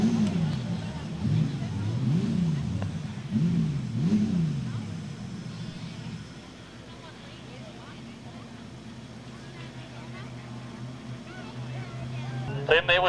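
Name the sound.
modified production race cars on speedway back straight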